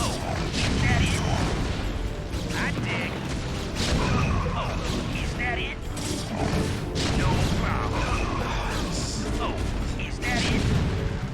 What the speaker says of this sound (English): That way our siege tanks can start shooting.